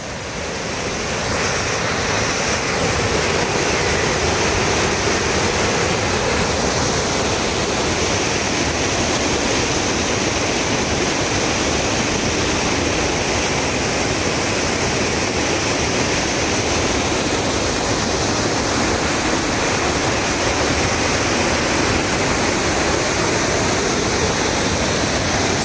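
Rushing water roars continuously at Koozhangal waterfall in Valparai, a loud, dense, unbroken torrent that swells in during the first second and holds steady throughout, with no voices.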